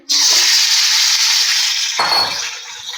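Chicken pieces dropped into hot salted oil burst into a sudden loud, bright sizzle that holds steady, easing slightly after a couple of seconds as the frying settles.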